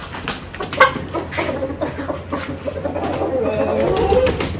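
Desi chickens cluck and murmur close by in a busy coop, with a person talking intermittently over the birds.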